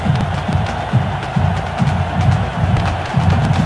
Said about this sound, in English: In the wise words of Tartarus, we draw quite a crowd.